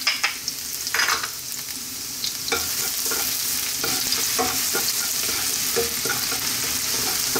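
Garlic frying in a pan with ginger for vegetable fried rice, a loud steady sizzle close by with scraping stirs from the spatula, no voices.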